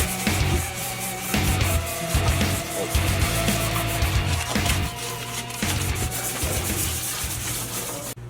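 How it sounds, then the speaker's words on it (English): Close, rhythmic hand sanding of a Fox body car's underhood area: repeated rough scraping strokes back and forth, steady and loud, with no voices. "the students doing was hand sanding all of the underhood area of our Fox body"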